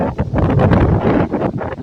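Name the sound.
strong typhoon wind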